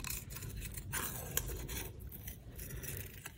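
Scissors cutting through paper card stock along an outline, a steady close rasping snip for a few seconds with no talking.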